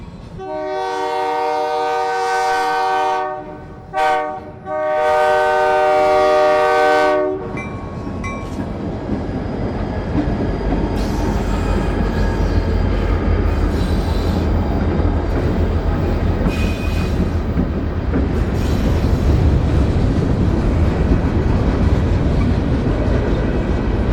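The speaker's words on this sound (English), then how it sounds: "Today's HA1 heads out of Harrington with a train of mostly empties to be handed off to NS above the town of Clayton." A short-line freight train of mostly empty cars pulls out behind a 70-year-old locomotive, first sounding a long, loud multi-tone horn in several blasts, then rumbling past with steady wheel and car noise that builds over time.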